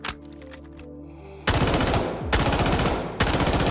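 SG552 rifle in the Delta Force video game fires in three rapid full-auto bursts, loud and close, each a dense stream of sharp cracks with brief gaps between.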